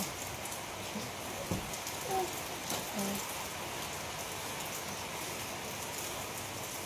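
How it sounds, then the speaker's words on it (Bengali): Steady rain falls with a soft, even patter and hiss that continues throughout, fairly quiet, broken by a couple of brief faint tones. "বৃষ্টি পড়ছে বৃষ্টি দেখো ওই দেখো কেমন বৃষ্টি পড়ছে"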